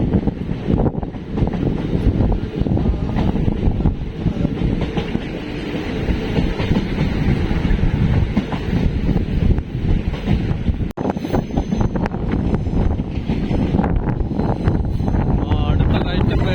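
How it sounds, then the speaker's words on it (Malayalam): A train climbing through the Western Ghats near Aryankavu rumbles and rattles steadily, with clattering wheels and heavy wind buffeting the microphone throughout and a sharp clunk near the end. "അടുത്ത കയറ്റം കയറിക്കൊണ്ടിരിക്കുകയാണ് നമ്മുടെ ട്രെയിൻ."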